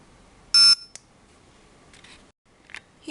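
Aetertek AT 218S dog training collar receiver powering on gives a single loud electronic beep lasting about a fifth of a second, close and alone, followed by faint clicks and handling noise.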